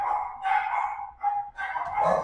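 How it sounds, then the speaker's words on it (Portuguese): Dogs bark in a quick run of sharp, mid-pitched barks, near and fairly loud with no talk over them. "Até os cachorros estão se manifestando."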